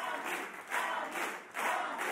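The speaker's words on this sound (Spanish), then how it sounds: "aplausos para nuestros maestros" Applause and crowd cheering for an orchestra's wind section at a televised singing-impersonation show, rising and falling in swells of clapping over about two seconds.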